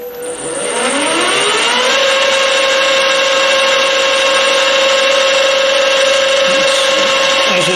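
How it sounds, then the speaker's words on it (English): A lathe spins up and runs steadily while a spot drill in the tailstock cuts the centre of a workpiece, a loud continuous machine whine with a rising pitch at the start, then a constant tone. "I'm going to spot drill the centre now."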